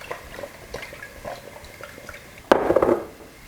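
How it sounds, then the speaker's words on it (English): Chopped tomatoes and coconut milk poured into a pan in a home kitchen, starting with soft clinks and stirring, then a sudden, louder liquid splash and glug near the end. "And now I'm going to add the wet ingredients."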